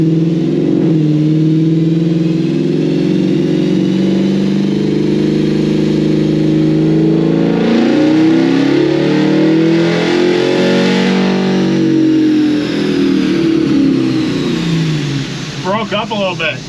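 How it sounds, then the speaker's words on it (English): An LT4 V8 engine in a Chevrolet C10 pickup revs hard on a dyno, a loud, sustained roar climbing and swelling over many seconds and close by, with a voice briefly heard near the end. "So make another pull and I'll rev it all the way out and we'll see."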